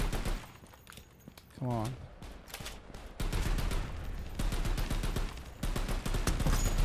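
Rapid automatic gunfire from the video game KOMPETE, with dense bursts of shots throughout, loudest in sustained volleys toward the end, while a player talks briefly over it.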